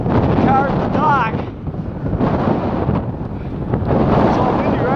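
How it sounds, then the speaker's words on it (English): Strong desert wind battering the microphone in loud rumbling gusts that rise and fall, with someone speaking over the blustery roar. "But it's pretty freaking windy. That desert wind."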